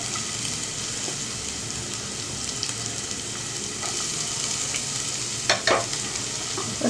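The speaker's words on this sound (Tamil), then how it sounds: "இதில் நான் ஒரு வெங்காயம் போடுறேன்" Chopped onion frying in hot oil in a pan for banana blossom fingers, giving a steady broadband sizzle with occasional stirring scrapes, close and even throughout with no voices.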